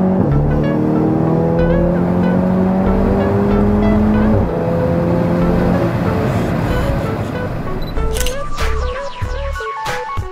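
A modified 506 bhp MK7 Golf GTI Clubsport drives hard on a race track, its engine loud and close, climbing through rising pitch sweeps with gear-change breaks, ending with high whines and crackles as it eases off.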